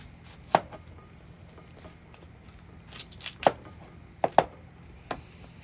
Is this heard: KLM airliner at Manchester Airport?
no